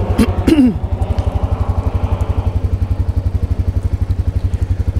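A Can-Am Outlander 700 ATV engine cranks briefly, then settles into a steady, throbbing idle with a fast regular pulse, close and loud throughout.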